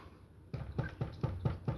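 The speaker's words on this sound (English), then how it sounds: "Knock on wood." Six evenly spaced knocks on wood, sharp and fairly close, follow one another in a quick steady rhythm after a short quiet start.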